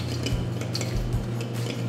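A spoon stirs almonds into thick cantuccini dough in a bowl, making close, scraping clinks and soft knocks against the bowl.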